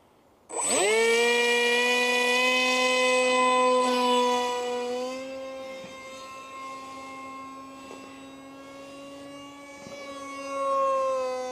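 Small RC F18 model jet driven by a 2208 2600Kv motor spools up abruptly into a loud, sustained high-pitched whine that holds steady, dips slightly as it flies, then swells again near the end; no talking.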